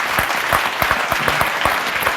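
Close, brisk applause from an audience at a birthday tribute event for a singer fills the whole short stretch, with individual claps standing out in a dense wash.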